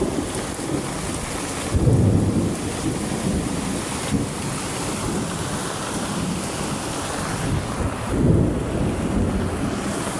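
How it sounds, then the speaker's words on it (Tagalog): A thunderstorm outside a house, with constant heavy wind and rain noise buffeting the microphone and two deeper thunder rumbles swelling up, the first early and the second near the end. "Grabe po ang kidlat, guys."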